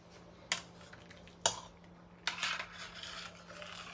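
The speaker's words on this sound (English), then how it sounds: "we're going to stir our noodles again" A utensil stirring noodles in a pot, with a few sharp metallic clanks and knocks against the sides, followed by scraping and rubbing in quiet surroundings.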